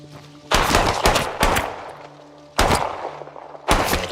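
Loud bursts of gunfire from a gun in the Sancticide game, several close, sharp volleys of rapid shots separated by short pauses.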